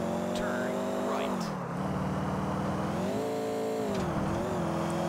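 In GTA 4, a Sultan sports car's engine revs loudly and continuously, its pitch rising and falling through gear changes, with a faint tire squeal and some speech mixed in.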